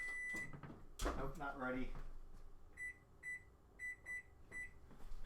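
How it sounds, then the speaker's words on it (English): A kitchen timer beeps in short repeated bursts during preparation of a Christmas dessert pizza, with five or six evenly spaced beeps following a stretch of talk. "as my timer goes off"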